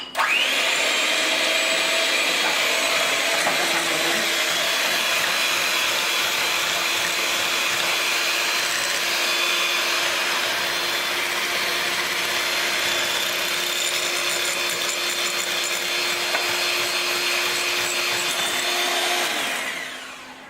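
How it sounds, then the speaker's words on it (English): An electric mixer whirs continuously, beating eggs for cloud eggs with cheese and bacon, a steady loud motor drone with slight pitch shifts running about twenty seconds before winding down. "So I'm going to beat the eggs, and I'll be back to you."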